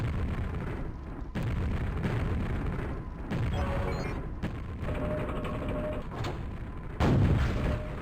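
Rapid gunfire and heavy weapon blasts from the virtual reality shooter Quake VR during a boss fight, with dense repeated bursts over a continuous mechanical, rumbling backdrop, loud and close, with no talking.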